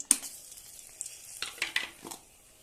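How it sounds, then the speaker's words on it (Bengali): Dried red chillies, cinnamon bark, cardamom and cloves drop into hot oil for a bottle gourd and poppy seed dish, giving a sharp initial crackle and then a few brief sizzling bursts, close and fairly quiet. "তেলটা গরম হয়ে গেছে দিয়ে দিচ্ছি দুটো শুকনো লঙ্কা ডারচিনির ছাল দুটো এলাচ লবঙ্গ"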